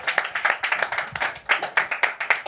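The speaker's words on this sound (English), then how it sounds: "Round of applause." A small group claps in a quick, uneven rhythm, the sharp hand claps close and fairly loud, at a live pre-match football show before Arsenal vs Ipswich Town.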